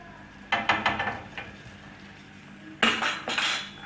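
Metal utensils clink and scrape against a frying pan while sfenj dough is lifted and turned in hot oil, a cluster of sharp knocks early on and another burst near the end, with no talking.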